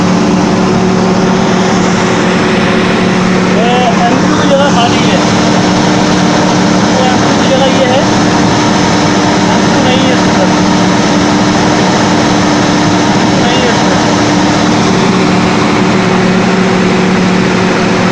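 A homemade engine built around a two-stroke motor runs continuously, loud and steady with a droning hum. Someone talks over it.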